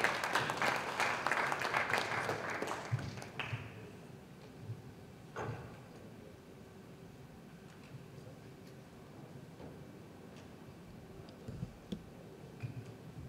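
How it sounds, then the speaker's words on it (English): A conference audience in Dubai applauds the panelists, clapping densely and fairly loudly for about three seconds, then tapering off into a quiet room with scattered clicks and a few isolated claps. "A round of applause for our panelists."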